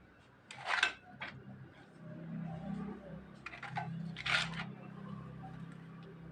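Crisp sun-dried rice-flour papad being handled up close, giving brittle crackling rustles in a few short bursts with quiet gaps between them and no talk.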